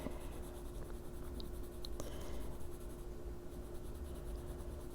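Colored pencil shading on a Santa Christmas coloring page makes a continuous soft, close scratching that holds steady throughout, with no talking.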